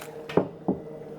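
Hands work margarine and vegetable shortening into dough with icy cold water for Jamaican curry chicken patty crust, giving two soft, close squishes about a third of a second apart against a quiet background.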